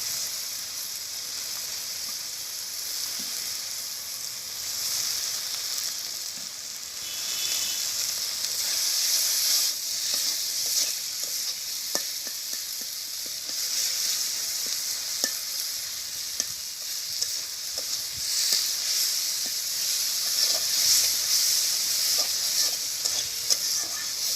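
Spice masala frying in mustard oil in a village kitchen in Bengal gives a steady, close sizzle, with occasional stirring scrapes and clicks throughout.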